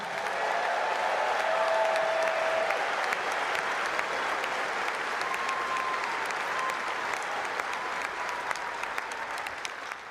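A large tennis stadium crowd at the Indian Wells final gives sustained applause for the volunteers, a dense, steady roar of clapping that fills the whole stretch and tapers slightly toward the end, with a few faint voices beneath.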